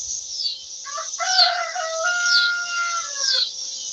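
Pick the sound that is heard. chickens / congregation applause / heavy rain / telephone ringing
chickens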